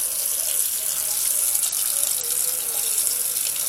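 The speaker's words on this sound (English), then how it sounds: "We're going to put some water in here" Hot tap water runs steadily into a cooking pot in a kitchen, a continuous close hiss and splash with a slight rising tone as the pot fills.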